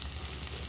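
Seasoned grilled pollack gives a short burst of steady, crackling sizzle at close range, with no voices over it.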